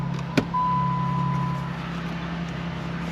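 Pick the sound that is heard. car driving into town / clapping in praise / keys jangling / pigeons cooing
car driving into town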